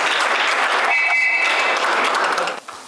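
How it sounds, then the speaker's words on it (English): Audience applause for a ship captain at a monthly community forum, a steady, dense wash of clapping from a crowd that holds for over two seconds before tapering off. "Let's give Captain Chesborough a round of applause."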